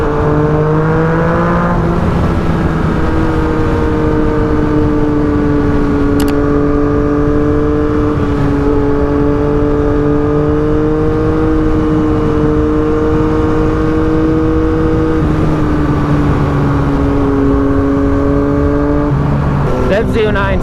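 Yamaha FZ-09 sport motorcycle being ridden on the road, its engine droning steadily with slow pitch rises and falls through gear changes, loud and close throughout with heavy wind rush over it.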